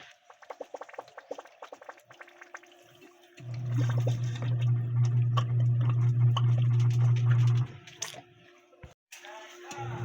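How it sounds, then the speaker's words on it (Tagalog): Household water supply gushing intermittently from a hose in spurts as the pump draws it up, a steady loud rush in the middle with sputtering before and after, a low motor hum beneath. "Hindi na po siya tuloy-tuloy yung agas ng tubig."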